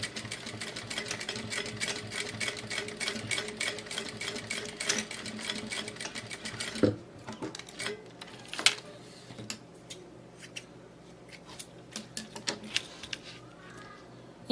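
Sewing machine stitching a zipper onto a handmade bag, a steady fast run of needle clatter for about seven seconds, then stopping and giving way to a few scattered clicks and handling knocks.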